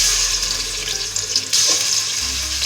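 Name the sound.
chicken meat added to hot ghee, sizzling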